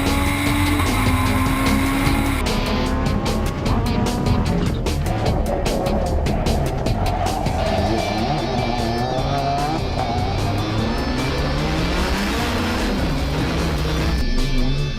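A Ford Escort rally car races hard at close range in a four-wheel-drive rallycross heat, engine roaring continuously with rapid gear changes and tire squeal, loud and unbroken throughout.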